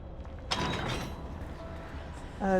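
Door mechanism opening in the video game Enshrouded, a grinding mechanical creak and ratcheting rumble followed by a brief clank near the end, moderately loud with no speech.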